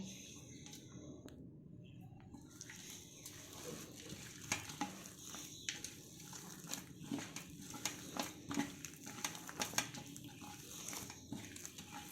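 Sabudana vada mixture with coarsely crushed peanuts being stirred and mixed by hand in a bowl, soft irregular squishing and scraping strokes that grow busier after a quiet start, faint and close.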